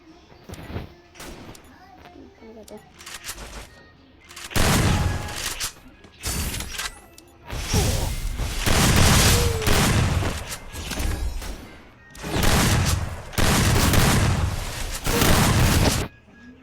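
Gunfire from the Free Fire video game comes in repeated loud bursts and booms with short pauses between volleys. Talking is heard faintly between the shots.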